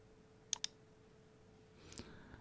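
Computer mouse clicking while navigating the Microsoft Edge browser, two quick sharp clicks close together, then softer faint clicks and rustle a moment later, close and quiet.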